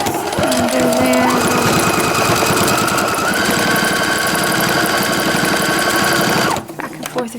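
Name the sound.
Brother computerized sewing machine stitching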